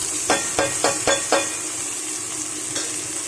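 Chopped onion hits hot oil with black cumin seeds in a wok, sizzling loudly and continuously while a spatula scrapes and stirs in a quick run of four or five sharp strokes, then one more later.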